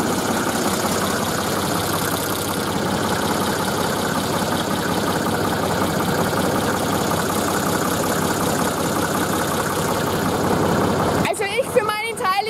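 Magirus-Deutz Mercur truck engine idling steadily and loudly close by for about eleven seconds, a continuous low rumble, before it cuts off and a few brief other sounds follow.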